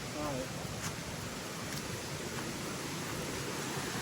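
A waterfall in a forest rushes with a steady, even roar throughout, and a voice is heard briefly at the start.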